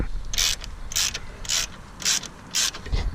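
A ratchet turning 10 mm bolts on a car battery tie-down, with five evenly spaced bursts of sharp, close clicking separated by short pauses.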